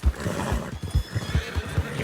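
In the video game Red Dead Redemption 2, a white Arabian horse gives a loud, close neigh while its hooves clip-clop in a steady rhythm on a snowy mountain.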